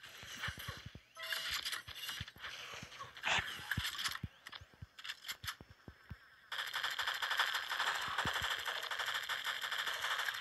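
Rapid bursts of rifle fire from the Disguised Rifle in the mobile shooter Pixel Gun 3D, sharp repeated shots in quick clusters over a busy, dense game soundscape that thickens into continuous noise near the end.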